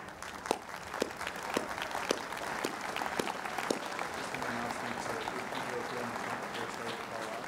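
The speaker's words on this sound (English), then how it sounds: "And let us applaud you" Audience applause at a William & Mary commencement ceremony, a steady mass of clapping with a few sharper claps near the start, holding at even strength and carrying on throughout.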